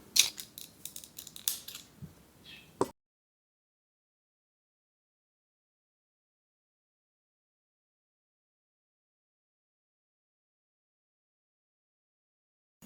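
Scissors snip crochet yarn on a geometric crochet animal, a few quick close blade clicks and rustles in the opening seconds, then silence.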